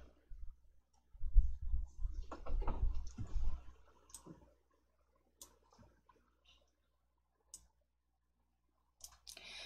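Mouse clicks on a computer while working in an Excel spreadsheet: a busy rustling burst early on, then sparse, crisp single clicks spaced seconds apart in a quiet room.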